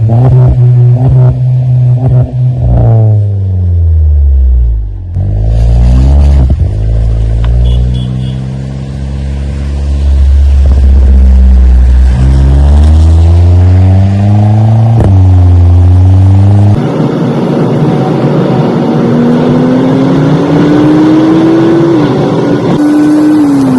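A VW Polo GT fitted with a Mark Performance MagnaFlow exhaust revs repeatedly up and down, loud and close, its deep droning note climbing and falling through several throttle blips before a long high hold.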